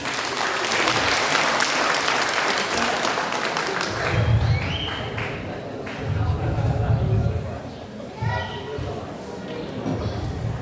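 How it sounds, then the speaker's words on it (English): Audience applause at a church national conference, a burst of clapping that fades while a speaker's voice comes in over the room and the clapping thins out. "A big round of applause, please"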